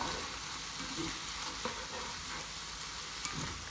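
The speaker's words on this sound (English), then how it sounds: "So it doesn't take long for these shrimp to cook." Cajun shrimp frying in a hot pan give a steady, close crackling sizzle with occasional small pops and stirring scrapes, continuous and without voices.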